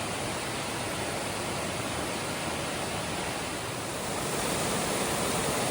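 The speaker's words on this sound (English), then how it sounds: "Here's our first waterfall." A waterfall in southern Greece pours in a steady, dense broadband roar, loud and unbroken, with no voices over it.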